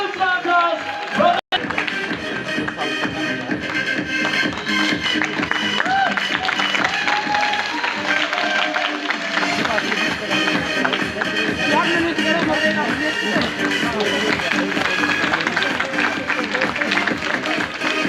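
Dense, continuous applause from the audience at a stock market summit event, a steady patter of many hands clapping with crowd noise, holding strongly for the whole stretch.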